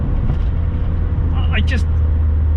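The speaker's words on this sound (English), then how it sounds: "why isn't everybody driving a car like this, even when you're off the throttle? It sounds fantastic." A modified Volkswagen Polo bread van drives in fourth gear with a deep, steady engine drone and road rumble inside the cabin, while someone talks over it.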